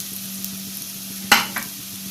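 Spices sautéing in a pan for a Tamil cowpea (karamani) kulambu, with salt already added: a faint, steady sizzle broken by two sharp spatula clanks against the pan, close by and without talk.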